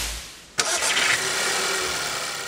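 A 1.8 TSI engine in a Škoda Octavia fires up with a sharp start after brief quiet, then settles into a steady, close idle hum that holds to the end.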